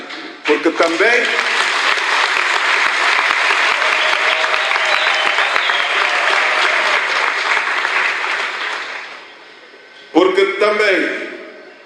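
Dense applause fills a hall at a UNITA women's anniversary event, sustained and loud for about nine seconds, fading briefly before a fresh burst of clapping breaks out again at the end.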